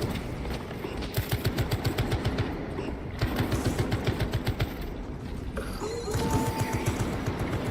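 Rapid turret gunfire in Warhammer 40K: Space Marine 2, steady automatic bursts repeating in several runs over continuous battle noise, close and loud.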